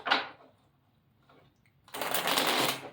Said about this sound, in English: I'm gonna give it a little shuffle